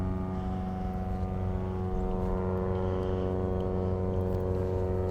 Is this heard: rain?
no